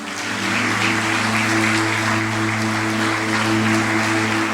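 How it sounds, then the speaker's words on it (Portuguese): A church congregation claps together during a sermon, a loud continuous wash of applause under sustained organ or keyboard tones, steady throughout. "Vamos aplaudir ao Senhor por isso."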